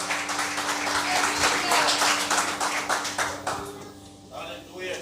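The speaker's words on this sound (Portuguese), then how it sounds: "Uma salva de palmas para glorificar o nome do Eterno." A church congregation gives a round of applause, dense rapid clapping from many people filling the room, with a steady hum underneath and voices mixed in, tapering off toward the end.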